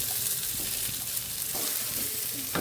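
Fried potatoes go into a sizzling Bengali fish head curry, producing a steady moderate hiss and frying crackle with a few soft stirring knocks, and no voices.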